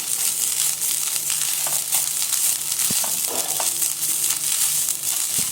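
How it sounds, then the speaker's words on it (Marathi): Grated coconut sautés in a pan with a steady, close sizzle, broken by occasional scrapes and stirring taps; no one speaks. "छान परतून घ्यायचं याला खोबऱ्याला"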